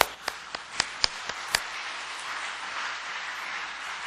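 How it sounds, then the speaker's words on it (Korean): A church congregation at a revival service breaks into applause: a few sharp, separate claps ring out first, then swell into a steady, even wash of clapping that fills the room. "우리 하나님께 영광의 박수 한번 드립니다"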